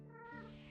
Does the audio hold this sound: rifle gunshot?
no